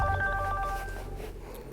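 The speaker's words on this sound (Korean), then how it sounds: "며칠 전 현장에서 들었던 고인의 핸드폰 벨소리가 제 방 안에 울리고 있었습니다." A mobile phone ringtone rings up close in a quiet room at night, with a bright repeating melodic tone that cuts off partway through and leaves a low hum.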